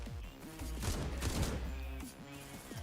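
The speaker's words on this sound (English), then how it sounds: "The rifle shoots a bit faster." Rapid rifle bursts in the SlavicPunk: Oldtimer video game, a dense sustained volley of gunfire that swells loud in the middle then thins to scattered shots, with a tonal game score running underneath.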